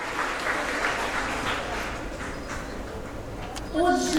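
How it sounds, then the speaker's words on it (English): An audience claps for a panel speaker at a Ukrainian investment forum, steady moderate applause that carries on evenly before a voice cuts in at the close. "A round of applause for Olena"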